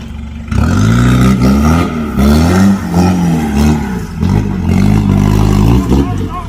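A loud, tuned dump truck engine revs hard in repeated surges, its heavy low rumble rising and falling continuously throughout, with people talking over it.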